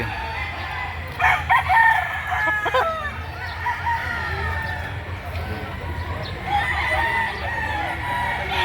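Roosters crow and cluck amid the chatter of a Saturday chicken market in Lipa City, Batangas, with a couple of crowing bursts rising over steady low background noise and people talking nearby.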